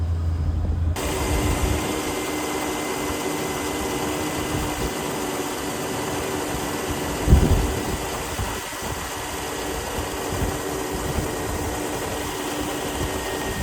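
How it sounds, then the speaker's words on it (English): A 2004 Chevrolet Silverado pickup engine idles steadily with a low, even rumble, one brief louder bump partway through, and no talking. "Engine runs great."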